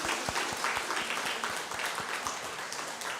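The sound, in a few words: congregation applause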